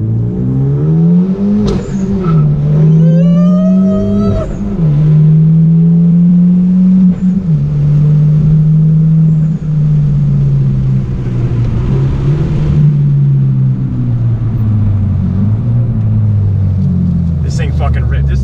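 A boosted Hyundai Genesis engine revs hard and loud, close by, the rev climbing several times and then holding in a heavy droning rumble while people talk excitedly over it.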